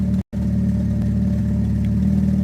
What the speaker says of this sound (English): It's got a loud exhaust.